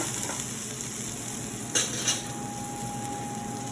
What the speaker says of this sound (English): And you'll kind of just give that a stir so it's nice and mixed up